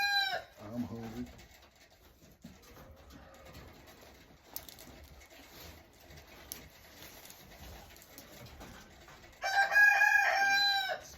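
Chickens cluck and a rooster crows at a backyard homestead with rabbits. Faint, scattered fowl sounds run under the quiet stretch, and a loud crow-like burst of calls rises near the end.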